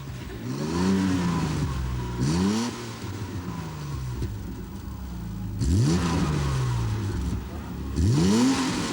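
A car engine revs in repeated throttle bursts, rising sharply in pitch several times and then settling, at moderate distance, with people talking around it.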